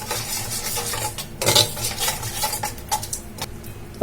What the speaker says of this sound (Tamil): அந்த பாலை வந்து இதுல ஊத்திக்கலாம். ஊத்திட்டு இதை நல்லா மிக்ஸ் பண்ணிக்கலாம்